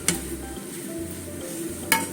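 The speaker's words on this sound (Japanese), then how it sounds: "またちょっと焦げ色がつくまでね、焼きたいと思います" Flourless okonomiyaki cooks on a griddle with a soft, steady sizzle, bracketed by two sharp metallic clinks from a utensil at the start and end of the short stretch.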